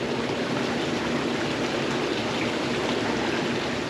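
An outdoor hot tub churning with steady bubbling water, a dense, even rush that stays constant and close the whole time, with no talking.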